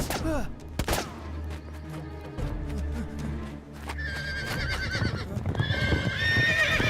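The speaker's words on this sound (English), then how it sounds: "We need to get to the horses." Horses neigh and whinny loudly while hooves clatter in a fast gallop, amid a chaotic rush of action with shouts and distant gunfire.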